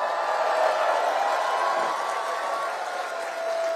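A rally crowd applauds former Liberal MP John Nunziata, producing a steady, even wash of clapping heard from a distance, with faint background murmur and no distinct individual claps.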